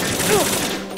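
M4 assault rifle fire in Metal Gear Solid 2, a brief, loud, dense burst of rapid shots lasting about a second, with a voice briefly heard beneath it.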